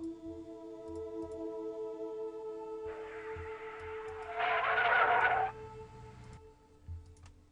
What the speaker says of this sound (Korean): 누가 들어도 교통사고가 난 듯한 그런 소리가 나왔는데